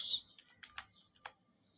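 Computer keyboard typing 'join airforce' into a browser, a few faint, separate key clicks spaced irregularly, close and quiet.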